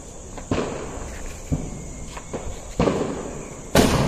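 Diwali firecrackers go off outdoors at home and a shop: a series of sharp, fairly loud cracks, each well separated, with a steady insect chirr behind them.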